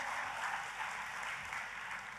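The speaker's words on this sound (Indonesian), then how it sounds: "Tepuk tangannya pula yang paling meriah buat Tuhan kita." A church congregation applauding in praise to God, a dense steady wash of clapping heard from within the crowd, sustained and fairly even, with no clear speech over it.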